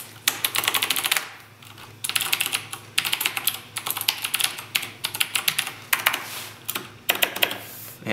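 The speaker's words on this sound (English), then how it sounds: "these are all using cherry blues, so there's not going to be a whole lot of difference in the noise level from keyboard to keyboard" Clicky typing on a standard Razer BlackWidow mechanical keyboard with Cherry Blue switches: close, crisp bursts of rapid keystrokes separated by short pauses, with no voices.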